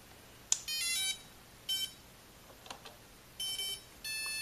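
Short electronic beeps and tone sequences from an FPV quadcopter's electronic speed controller during calibration chirp in separate bursts, some high-pitched and stepped, fairly faint, with quiet gaps between them.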